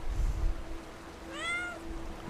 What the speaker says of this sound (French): C'est parce que je vous ai fait caresser un chat?